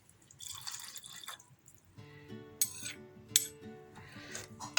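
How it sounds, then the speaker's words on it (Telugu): Milk is poured into a ridge gourd curry in a pan off the heat, giving a soft liquid trickle and splash with a few light metallic clinks of a utensil, close and quiet. "ఇప్పుడు పాలు పోసుకున్నాం"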